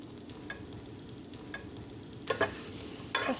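Garlic sizzling in butter in a pan over high flame, a steady soft frying hiss broken by several scraping stirs with a spoon, close up and without talking.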